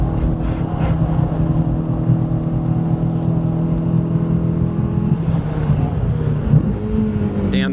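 A race car engine at Phillip Island circuit droning loudly and steadily from inside the cockpit, its pitch shifting as it drops a gear near the end.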